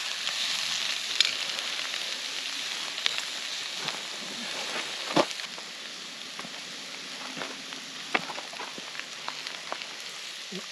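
Filet mignon sizzles and fries in rosemary butter with chopped garlic over an open campfire, a steady close crackle with scattered sharp pops throughout, no talking.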